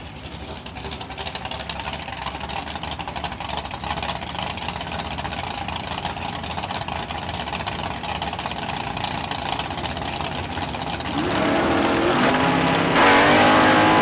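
A 1970 El Camino idles with a steady rumble at a drag strip, then the engine surges louder near the end as it launches off the line. A second, sharper jump in loudness follows close after.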